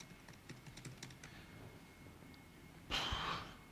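Quiet, close typing on a computer keyboard during a web security talk: a quick run of light key clicks, then a pause and a short breathy exhale or snort near the end.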